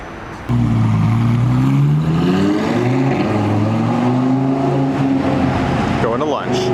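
A pink Lamborghini Urus roars in close and loud, its engine note rising and shifting in pitch as it drives by, then trailing off at the end.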